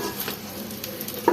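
An egg fries in a pan in a home kitchen, giving a close, steady crackling sizzle with a brief scrape near the end.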